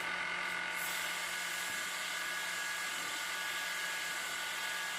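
A high-speed plasma hair dryer with negative ion output runs steadily at close range, a loud, even airy whoosh with a constant motor whine and no speech.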